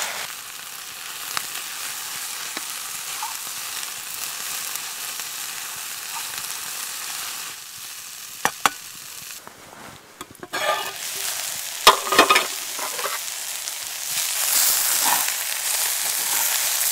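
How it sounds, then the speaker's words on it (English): Food stir-frying over a wood fire in a firebox out in the woods sizzles steadily throughout, with a few sharper clatters and scrapes of stirring near the middle and end. "This is perfect for stir fry."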